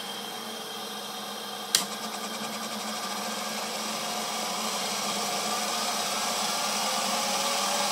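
A Dynafax high-speed camera spins at 15,000 frames per second, giving a sharp click followed by a loud, steady whirring whine that slowly grows louder, heard close and alone.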